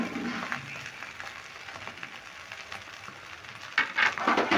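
Spiced potato filling fried and stirred in a pan for capsicum chops: a steady soft sizzle with scraping spatula strokes, and louder clattering stirs near the end.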